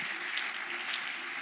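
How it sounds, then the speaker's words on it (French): A church congregation claps in welcome as a speaker walks forward, a steady, moderately loud patter of many hands filling the whole stretch. "nous allons le saluer par des acclamations pendant qu'il s'avance vers moi"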